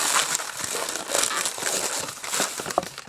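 A latex party balloon is folded and twisted, giving close, loud crinkling and squeaky rubbing bursts in quick irregular succession over a few seconds, with no voice.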